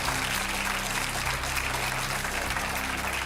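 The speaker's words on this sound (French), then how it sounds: "il y a du public autour de nous qui va vous applaudir maintenant" An audience gathered around a street shoot for a French consumer-rescue TV show applauds, a steady, fairly faint wash of clapping across the whole stretch.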